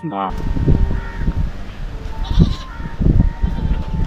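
Goats bleat several times at a riverside village by the Indus, with short nasal cries close by, while people talk over rustling outdoor ambience.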